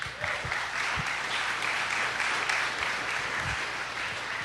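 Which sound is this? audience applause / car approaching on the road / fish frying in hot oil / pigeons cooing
audience applause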